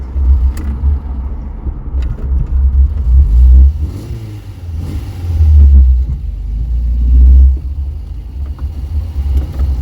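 A Ford Fiesta's small petrol engine runs loud and close, rising and falling in swells of revving and rumble as the car is maneuvered and turned around.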